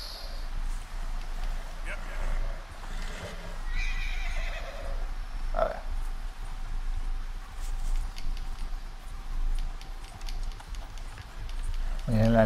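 Horse whinnies and hoofbeats while riding in Red Dead Redemption 2, heard over steady game ambience with a sharp whinny midway and more near the end, with talk nearby.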